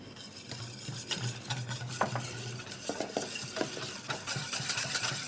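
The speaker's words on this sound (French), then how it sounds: "on remue pour que ce soit homogène" Spoon stirring a flour and cocoa batter with olive oil in a bowl, a steady scraping, knocking rhythm at close range with no talk.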